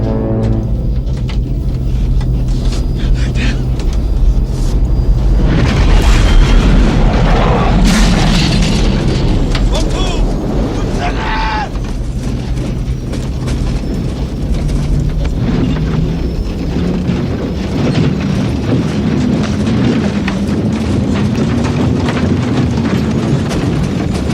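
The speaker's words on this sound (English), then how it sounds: "Shockwave. Oh, shit. Shockwave." A nuclear blast shockwave in a war film: a loud, sustained deep rumbling roar with crackling debris and rushing turbulence that keeps going for many seconds, followed by lower engine-like droning.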